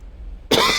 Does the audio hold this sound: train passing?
no